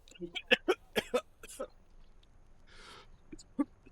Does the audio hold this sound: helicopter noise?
no